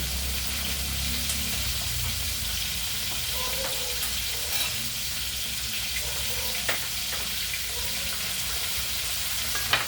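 Continuous sizzle of fish frying in oil, close and steady, with a few faint clicks and crackles scattered through.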